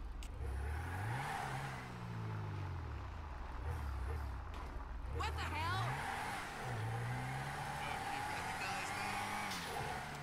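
A turbocharged car engine in GTA 5 drives and revs through city streets, its pitch rising and falling with repeated acceleration and gear shifts, steady and close throughout, with someone talking over it.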